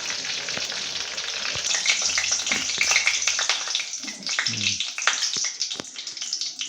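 Whole spices fry in hot oil in a pan for a puja bhog khichuri, a close, steady sizzle with crackling pops and occasional stirring scrapes of a spoon, heard alone without talk.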